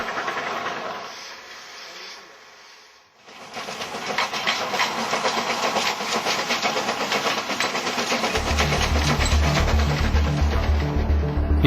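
Narrow gauge train on a limestone railway near Beijing in 2004: a loud hissing roar of steam and engine noise, a brief dip, then a sustained rumbling chuffing that builds, with rhythmic low thumps near the end.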